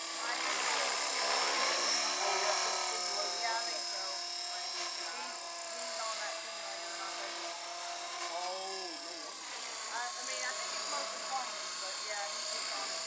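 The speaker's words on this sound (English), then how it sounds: "Been flying a helicopter for the first time." A small, low-quality toy helicopter flying, a steady high-pitched motor whine with wavering pitch as it hovers unsteadily, with people talking over it.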